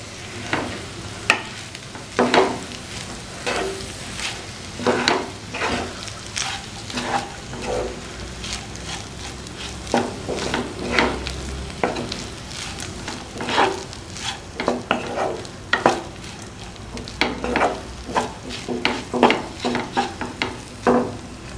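Rice being stirred together with sautéed betel leaves and carrot in a hot pan, with a continuous light sizzle and many rhythmic scraping spatula strokes, close up and unbroken by speech.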